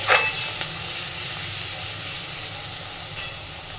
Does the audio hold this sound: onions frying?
yes